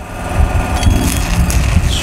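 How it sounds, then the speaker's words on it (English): Trailblazer 325 EFI welder engine running while stick welding at 125 amps with an electrode, a loud steady close drone idling around 2400 RPM with a slight fluttering pulse and no talk. "as you can hear, while welding, that engine is at idle, 2400 RPM"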